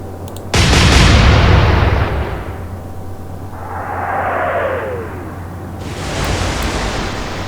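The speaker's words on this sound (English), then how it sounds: "if we haven't, then open fire" Naval guns open fire in the Atlantic Fleet naval warfare game, a sudden loud boom that rolls out over a second and a half, followed by a whistling shell sweep and a second rumbling swell, with no talk.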